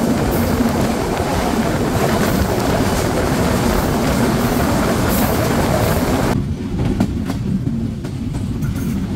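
A moving train rumbles loudly on the rails as another express, the intercity Kapotaksha Express from Rajshahi bound for Khulna, passes on the double line, a dense roar with clatter that thins abruptly as the crossing train clears.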